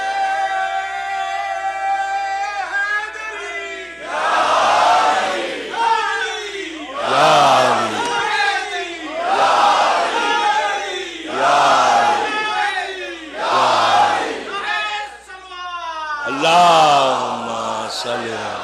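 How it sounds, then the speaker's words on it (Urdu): A large gathering chants the Nara-e-Haideri slogan in loud, rhythmic bursts, a lead voice calling out and the crowd roaring back in several repeated waves, close and full. "ایک زبردست نعرے حیدری سے کل کا دن کا آغاز کرو"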